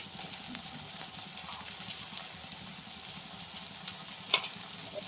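Soft, steady sizzling of finely ground coconut frying in a pan, fairly quiet, with a few light clicks and clinks.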